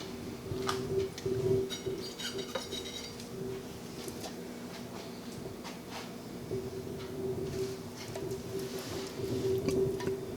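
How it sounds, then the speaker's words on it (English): Juices drip and sizzle off a rotisserie pork loin turning on a Kamado Joe grill, faint scattered ticks and hisses over a low hum, heard close with no talking. "Look at the juices dripping out of it."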